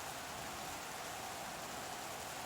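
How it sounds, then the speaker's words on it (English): Steady wind and rain wash through a Madden 2008 football game, a constant even hiss of rainfall with no breaks, moderately loud and with no voices over it. "Look at that wind and rain."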